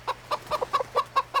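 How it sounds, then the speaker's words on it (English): A hen clucks in a backyard coop, seven or eight short close clucks in a quick uneven rhythm over a faint steady hum, no talk. "So what's going on in the coop today, hen?"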